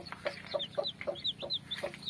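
Newly hatched hybrid chicks, a cross of hybrid and native chickens, peep in quick, high, thin chirps, several overlapping calls repeating close by in a quiet setting.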